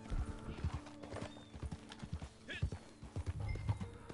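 Horse hooves clip-clop in a steady, uneven rhythm in the Western video game Red Dead Online, with a brief neigh partway through, all set under quiet game ambience and a speaking voice.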